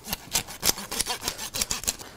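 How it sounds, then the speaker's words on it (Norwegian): A saw knife cuts through the bones of a large cod being filleted, giving rhythmic back-and-forth rasping strokes, about nine in quick succession, close and fairly quiet. "Tar opp sagkniven, sager beina her."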